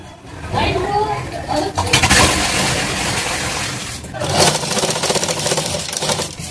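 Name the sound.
sewing machine stitching a blouse shoulder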